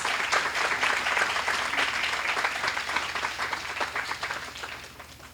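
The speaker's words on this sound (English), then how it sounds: "If you'll please give them a big round of applause." A symposium audience gives a round of applause for public health staff, many hands clapping in a full burst that gradually fades and thins out over several seconds.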